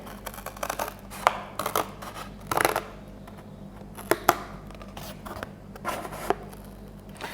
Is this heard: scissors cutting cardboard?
yes